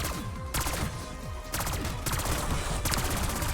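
Rapid submachine gun fire in Black Ops 6 Zombies at round 25, a dense run of loud, continuous shots with brief gaps between bursts and no talk.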